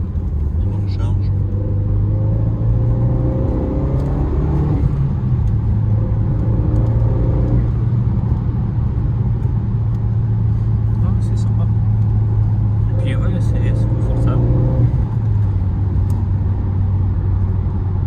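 A Renault Megane 3 RS with a 2.0 engine rated at 265 hp pulls hard with its turbo under load, a loud, steady droning engine note that rises and shifts under ongoing conversation in the cabin.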